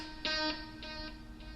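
A single electric guitar note plays with a quarter-note delay of about 600 ms at 100 beats per minute, followed by two fainter, evenly spaced echo repeats that die away.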